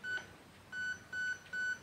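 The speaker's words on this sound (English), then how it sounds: "we're gonna click it, 2 beeps, this means we selected the second subcategory" A HAL MOSFET in an AK-style airsoft gun gives four short, evenly spaced electronic beeps during programming, quiet and clean with nothing else around them.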